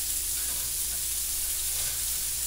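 Hamburger steak patties browning in a pan, a steady close crackling sizzle with soft hiss that runs on without pause, no voices over it.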